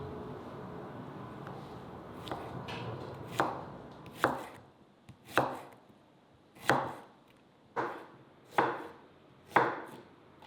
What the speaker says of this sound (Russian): Лук мы подготовили, нарезали его, он придаст сочность нашему блюду.